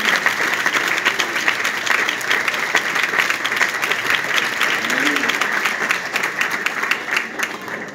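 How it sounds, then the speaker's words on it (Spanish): Loud, sustained applause from a large church congregation, dense and even throughout, with a few voices mixed into the clapping. "Dar un aplauso fuerte al Rey de Reyes"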